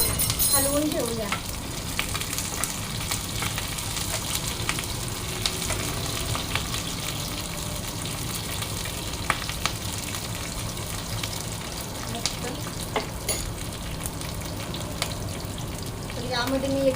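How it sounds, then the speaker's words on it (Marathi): Soya chilli stir-fried in a pan, a steady loud sizzle with scraping stirs running throughout, alone with no talking. "नुसतं आपण 1 मिनिट हलवून घेऊया."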